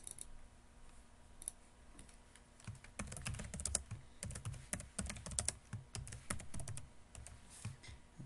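Someone types on a computer keyboard during a SolidWorks 2018 assembly drawing session. A quiet start gives way to dense, rapid key clicks heard up close with no talk.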